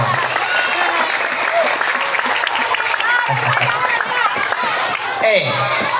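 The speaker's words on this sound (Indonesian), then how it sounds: "tepuk tangan untuk kita semua" A large group of schoolchildren clap their hands at an elementary school gathering, loud continuous clapping mixed with excited voices, shouts and chatter throughout.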